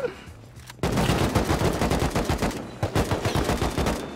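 Rapid automatic gunfire from the survival video game Rust, loud dense bursts of shots in a fast rhythm, with a short gap before a second volley.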